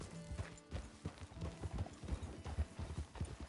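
Horse hooves clip-clop steadily at a walking pace in a Western video game, rhythmic and fairly close, with music or ambient tones underneath.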